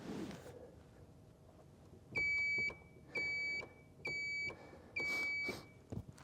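An electrical circuit tester clipped to a trailer wire and grounded gives four clear, evenly spaced electronic beeps, each about half a second long, in an otherwise quiet space with faint background hum.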